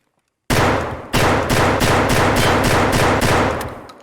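A shotgun loaded with flechette rounds fires in Escape From Tarkov: about eight loud, evenly spaced blasts in quick succession, close and heavy, each ringing into the next.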